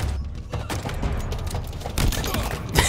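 Pistol gunfire in the video game Halo Infinite, a few quick punchy shots scattered across a busy mix of in-game action sounds, the loudest burst near the end.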